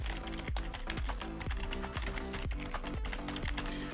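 Fast, rhythmic keystrokes clatter on a computer keyboard, close and crisp against a busy, steady background bed.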